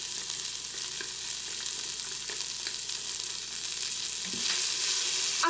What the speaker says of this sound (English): you're just going to let it stir and saute for 30 seconds